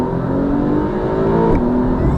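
A Porsche engine revs hard under a 20-second performance boost, a loud sustained droning rise in pitch that drops briefly at a gear shift, then climbs again, heard from inside the cabin.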